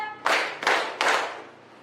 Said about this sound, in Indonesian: Kalau Ibu bilang tepuk tiga kali, kita menepuk tiga kali.